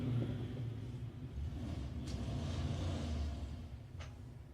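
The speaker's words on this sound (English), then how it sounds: "Warming those tyres up." A racing motorcycle at a street circuit qualifying session warms its tyres before a solo pass, a steady low engine rumble droning at a distance throughout, with a couple of brief higher bursts.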